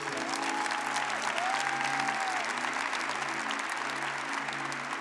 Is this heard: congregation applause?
yes